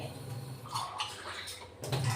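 Water pours from a glass and splashes into a pot of pods for boiling for a couple of seconds, close by, with a soft gurgle as it lands.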